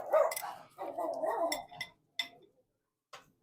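Dogs barking outdoors at a neighbor strolling past, a few loud close barks and growly bursts trailing off into scattered clicks and silence.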